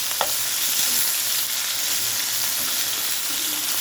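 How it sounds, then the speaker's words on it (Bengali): Rohu fish pieces coated in salt and turmeric fry in hot oil in a pan, giving a steady, close, bright sizzle with a few faint clicks of handling and no talking. "ভাজি করে নিচ্ছি।"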